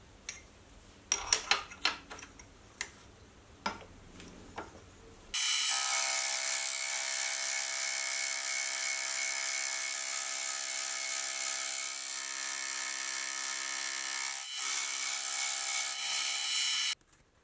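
A lathe tool holder, stood up on parallels, is machined on its other side, a loud steady metal-cutting whir lasting about eleven seconds after some brief clicks and knocks of setup.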